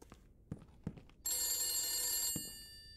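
A telephone bell rings in a house in the horror video game The Beast Inside, one sustained bright metallic ring after a few soft footstep-like thumps, fairly close and loud.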